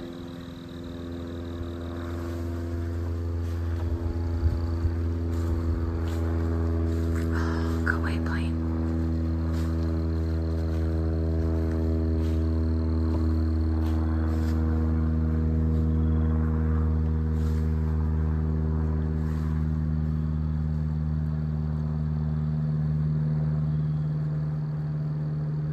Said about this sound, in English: Other than the wind and the plane, it's awfully quiet.